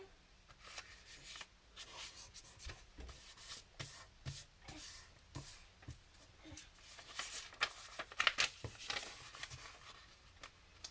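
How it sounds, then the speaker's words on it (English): Paper being folded and creased for an origami crane gives off soft, dry rustling, scraping and crinkling, with faint taps as edges are pressed flat. The sounds come in uneven strokes, close and quiet, with no talk. "I am just putting creases in my paper."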